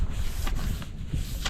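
A fine-grit sheet of sandpaper rubs steadily over a diamond willow walking stick, making a soft, continuous, close scratching hiss with slight strokes and no pauses.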